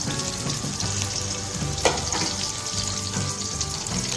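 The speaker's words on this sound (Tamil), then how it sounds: "எண்ணெய் காஞ்சவனே வெங்காயத்தை போட்டுக்கலாம்." Onions frying in hot oil for a macaroni masala, a dense, steady sizzle that stays loud and close throughout with a brief sharper crackle midway and no voices.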